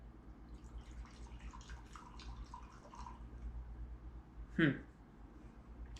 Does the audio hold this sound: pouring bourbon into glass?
yes